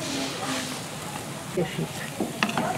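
Cornmeal batter for a Brazilian broa being stirred in a pan, a soft scraping and bubbling hiss under people talking in Portuguese close by.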